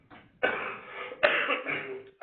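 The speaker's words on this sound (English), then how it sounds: "I'm going to be coughing a little bit throughout the presentation." A man with a bad cold coughs repeatedly, with several close, harsh bursts in quick succession, each followed by a rough breathy tail, heard alone without talk.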